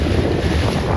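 Strong wind buffets the microphone in a steady, loud roar during a 29er sailing dinghy regatta, with water sloshing faintly beneath it.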